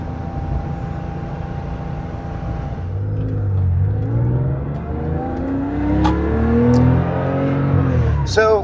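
A 1971 Porsche 911 E Targa drives along, its engine note rising and falling through gear changes with a steady rumble, heard from inside the car.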